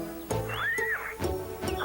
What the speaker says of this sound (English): Where do you keep the horses